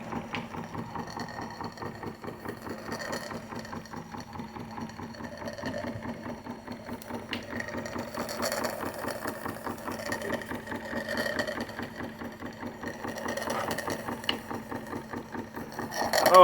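A PM Research No. 3 model steam engine fired by a Roundhouse alcohol-fuelled boiler chugs steadily, a fast rhythmic mechanical clatter at moderate volume that rises slightly toward the end.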